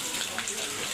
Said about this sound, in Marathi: यातून गरम पाणी येते या कुंडामध्ये आणि तिथून जाते इकडे